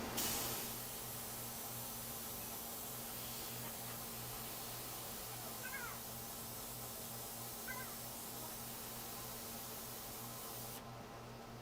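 An airbrush sprays paint for clouds in a continuous soft hiss that holds steady for several seconds with slight variations, then cuts out near the end.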